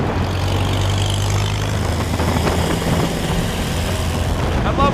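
A 1933 Indian motorcycle engine pulls in third gear at very low revs, a steady deep rumble throughout with a low throb beneath broadband noise, loud and close, with no voices.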